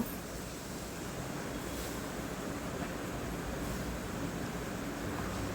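Pieces of katla fish fry in hot oil, giving an even, soft crackling sizzle that holds steady throughout without any voices.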